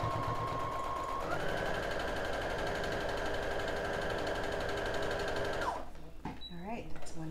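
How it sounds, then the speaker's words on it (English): A sewing machine runs in one continuous, close, steady whirring stretch while stitching a paper-pieced quilt star pattern, then stops abruptly and gives way to quieter handling sounds. "we're going to sew this last piece on each half of the star pattern"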